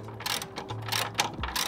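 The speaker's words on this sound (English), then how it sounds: "So I'm just gonna tighten it to where it kind of holds in place" Ratchet wrench tightening suspension bolts under a Lexus IS300 drift car: rapid, close mechanical clicking in short bursts, with no talking.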